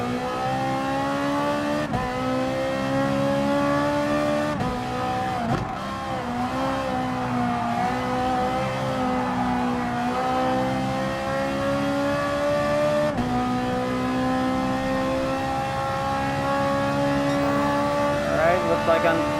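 Ferrari 458 Italia GT3 race car engine in Gran Turismo Sport, a steady sustained loud drone with subtle pitch shifts through gears and a rise near the end, voice talk faintly underneath.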